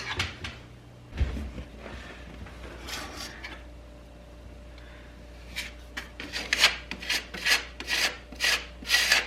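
Pink spackling being sanded on an interior wall: close rasping strokes, a few scattered ones at first, then a quick, steady run of rhythmic back-and-forth scrubbing.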